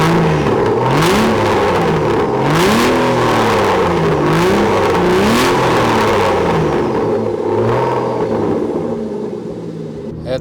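An Aston Martin DB9 with an automatic gearbox pulls away from inside the cabin, its engine rising and falling through several smooth revving sweeps before settling, loud and close throughout.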